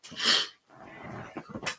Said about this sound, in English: You have to deal with sniffles today.